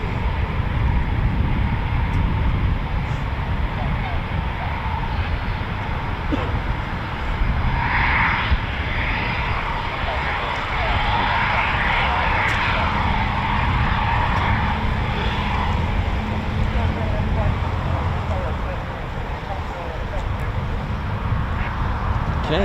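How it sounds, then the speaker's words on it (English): Eurofighter Typhoon FGR4 jets taxi out at RAF Coningsby, producing a continuous loud engine roar with a rising whine partway through. Someone speaks over the noise. "And another Typhoon taxiing out over there as well."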